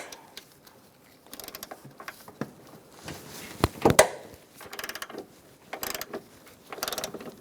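A ratchet and socket work a front strut bolt loose on a 2004-2009 Mazda 3, giving quick bursts of clicking ratchet strokes separated by pauses, with a louder metallic clunk midway.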